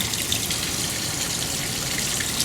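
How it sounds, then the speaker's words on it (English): Fuel dripping and trickling near a stalled engine on a DuraCraft boat after it was over-primed, a steady close wet patter with a constant broadband wash and no talk. "there's a lot of fuel dripping right there"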